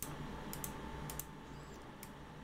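Computer keyboard keys clicking and typing at a desk, a few sharp close taps in small clusters over steady room hiss, with no talking.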